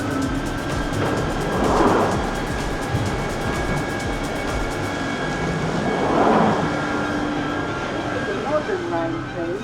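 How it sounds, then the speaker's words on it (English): A London Underground tube train pulls into the platform with a steady rumble and squealing wheels, while voices talk over the din of the busy station. "Okay, next train approaching."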